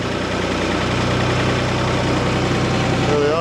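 A tractor engine runs loud and steady under load while pulling a Haybob tedder through grass, a constant heavy drone with a low rumble and vibration that holds throughout.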